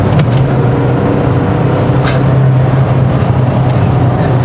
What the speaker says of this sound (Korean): 이게 낮은 RPM에서는 소리가 영 구린데 역시 이게 고회전 한번 때려주면은 또